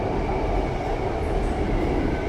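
Bangkok BTS Green Line Skytrain heard from inside a carriage while running, a loud, steady rumble of wheels and motors with no voices.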